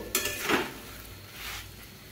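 A utensil mixes soya cutlet ingredients, soybean, potato, salt and Maggi masala, in a bowl, with a sharp clink followed by a couple of softer scraping knocks close by.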